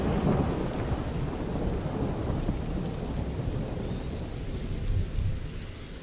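Thunder and lightning storm in the video game A Plague Tale: Innocence, a steady, loud rumble of thunder with rain noise filling the whole stretch, swelling slightly near the start and again toward the end, with no voices.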